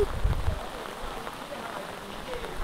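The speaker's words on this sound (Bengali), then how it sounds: "আজকে সকাল সকালে এত বৃষ্টি হচ্ছে, অঝড় বৃষ্টি।" Heavy morning rain falls as a steady, dense patter on surfaces outdoors, moderately loud and unbroken across the short stretch.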